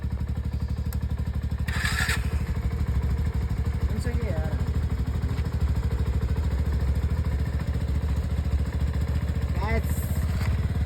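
A motorcycle engine runs steadily at idle on a cold morning along a mountain trek route, a continuous low rumble throughout with brief higher bursts and people talking over it.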